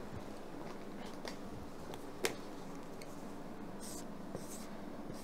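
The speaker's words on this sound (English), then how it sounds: "So let me write it down." Pen or marker writing on a surface, a steady soft scratching texture running throughout with a couple of sharper taps, close and quiet, with no talking.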